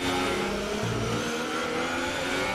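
Formula 1 car engines in the video game F1 2018 roar continuously with a revving, droning pitch that shifts as cars pass, loud and steady throughout.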